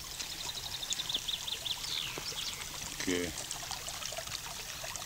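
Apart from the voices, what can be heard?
stream of water flowing over cobblestones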